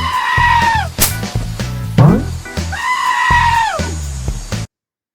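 A screaming goat lets out two long, loud, wavering bleats close up, separated by a brief lower bleat and some thumping, and the sound cuts off abruptly at the end.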